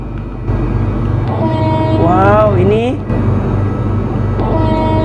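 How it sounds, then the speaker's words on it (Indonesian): An old JR 203 series electric commuter train sounds a single wavering horn blast lasting about a second over a constant rumble. A person speaks briefly around the horn. "Coba kita dengarkan untuk suara klaksonnya seperti apa ya."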